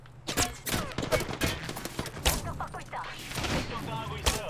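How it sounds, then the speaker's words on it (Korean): Gunfire in the Apex Legends shooter game: bursts of sharp shots and rapid automatic volleys crack out at moderate distance, with some louder close hits, while a player talks over the action. "아 뭐야 누가 쏜다 뭐야 뒤에서 쏘는데?"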